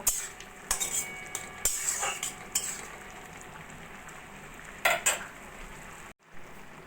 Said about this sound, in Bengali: লেবু রসটা দিয়েও ভালো করে মিশিয়ে নিয়ে আরও দু মিনিট মতো রান্না করে